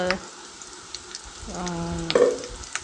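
Crushed chilli hits hot oil for tempering, giving a steady close sizzle with a short burst of crackling and a brief tonal, voice-like hum partway through.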